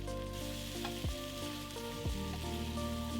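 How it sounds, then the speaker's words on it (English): A steady, quiet sizzle of garlic and vegetables frying in a pot, with a couple of soft stirring scrapes breaking through. "I'm also adding 1 large garlic clove and frying it with the rest of the veggies"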